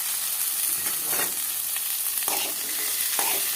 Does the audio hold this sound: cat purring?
no